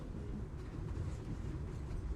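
Steady low rumble of a train running, muffled inside a train car fitted out as a black box theater with heavy hanging curtains, carpet and chairs; continuous, dull and even throughout.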